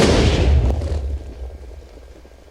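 A cloud of gas set alight in the Minecraft GasCraft mod explodes with a loud, deep boom up front, then a rumbling tail that fades away over a couple of seconds.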